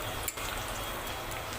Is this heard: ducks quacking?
no